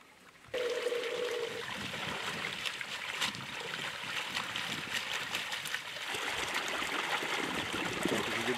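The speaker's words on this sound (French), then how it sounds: "c'est l'eau qui arrose le verger du bas de la châtaignerie" Steady rushing water flowing continuously through an irrigation channel, a close, constant wash with light splashing textures throughout.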